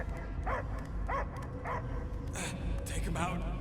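A dog in the Guardians of the Galaxy video game barks in a few short, evenly spaced bursts, set against a steady game backdrop of low ambience and voices.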